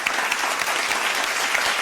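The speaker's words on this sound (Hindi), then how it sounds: "तालियां होनी चाहिए" Studio audience applause on a Ramazan quiz show, a brief, continuous burst of dense clapping at a steady level, with no voices over it.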